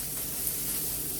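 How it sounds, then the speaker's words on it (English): Sausage sizzles in a pan on a vacation rental kitchen stove, a steady close, even frying hiss with no talk over it. "He's sizzling sausage right now"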